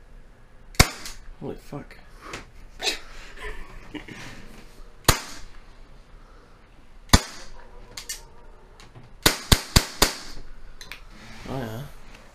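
Sharp snapping shots from a 1911 airsoft handgun, a few spaced single shots and then a fast burst of about five near the end, loud and close, with short exclamations from people between shots.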